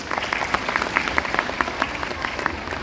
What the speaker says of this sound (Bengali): দেবাশিসের জন্য একটা জোরে হাততালি দিন।